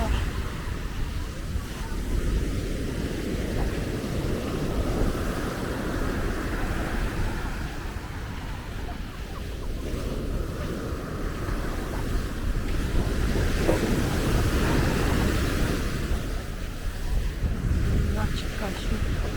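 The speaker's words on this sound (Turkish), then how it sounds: "Acayip dalgalar." Sea waves on Kleopatra beach in Alanya, Turkey, make a continuous broad rush of surf that swells and ebbs over the whole stretch, with wind buffeting the microphone and people talking nearby.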